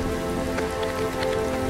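Steady rain patter from a song, a constant hiss running beneath sustained piano notes throughout.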